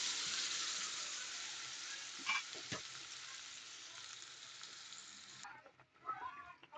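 Marinated pork chops fry in a hot pan, a loud, steady sizzle close by that drops off sharply near the end, leaving softer crackles and light clatter.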